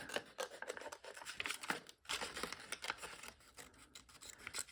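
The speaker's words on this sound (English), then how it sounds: "And then I will take my small scissors and I will" Small scissors cut paper stone shapes for a collage, producing a steady run of close, crisp snips and rustling paper with no one speaking.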